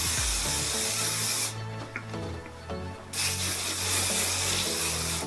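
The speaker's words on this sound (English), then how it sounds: "I'm just going to finish off once again with the Garnier Fructis Sleek and Shine Hairspray" Garnier Fructis Sleek and Shine hairspray misted onto hair in two close, loud hissing bursts, with a brief pause between them.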